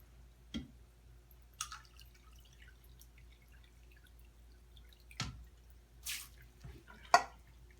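Water from a sponge filter in a betta cup falls in a few sparse, distinct drips against a quiet background.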